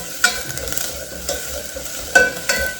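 Onions frying with curry leaves in a hot pan, giving a steady sizzle with a few sharp stirring scrapes and clinks at intervals, close up with no talking.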